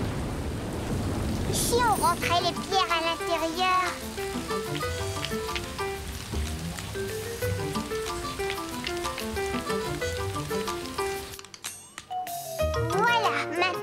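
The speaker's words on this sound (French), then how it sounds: "Il commence à pleuvoir." Steady rain hisses in a cartoon's background beneath bright, playful music, with someone speaking briefly over it.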